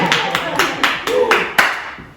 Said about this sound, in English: Go ahead and give her a round of applause.